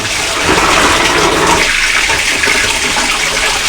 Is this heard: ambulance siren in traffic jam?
no